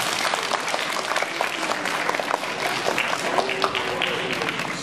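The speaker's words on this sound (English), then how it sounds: "Give her a round of applause." A crowd applauds after an aikido demonstration, with steady, dense clapping that fills the room at a constant level from start to finish.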